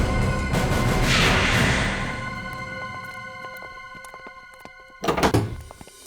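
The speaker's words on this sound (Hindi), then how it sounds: "मैं तो बस एक कचरा बाहर रखने के लिए दरवाजा खोला था" A door is opened with a soft thunk and latch clicks, followed by a louder knock-like bump near the end, in a quiet indoor room with no talking.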